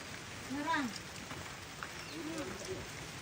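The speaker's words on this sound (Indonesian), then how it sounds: "Nah, sudah hujan ini." Rain falling steadily and softly outdoors near a duku fruit tree, a faint even patter with a few distant bird calls and brief voices.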